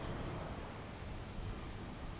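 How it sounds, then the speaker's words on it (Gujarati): Heavy, steady downpour in Keshod, a dense unbroken roar of rain falling on surfaces, loud and constant throughout with no voices. "કેશોદમાં સતત ધોધમાર વરસાદ વરસવાને કારણે હવે ચારેય બાજુ પાણી જ પાણી ભરાઈ ગયા છે"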